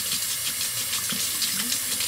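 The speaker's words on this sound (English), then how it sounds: "I always rinse my razor under hot water" Hot water runs steadily from a tap as a Gillette Skinguard razor is rinsed under it, a close, continuous splashing hiss with no talking.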